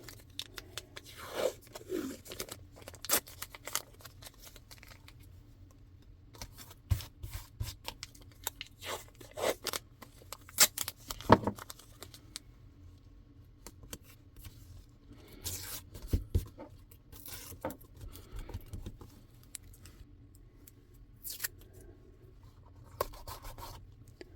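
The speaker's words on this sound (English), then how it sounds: "I'm going to add some washi tape as well." Washi tape with a fine print being torn and pressed down onto a mixed media page, soft scattered rips, rubs and crackles spread across a quiet background with no talking.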